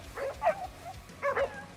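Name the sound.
dog barking, black Jindo in video game Crimson Desert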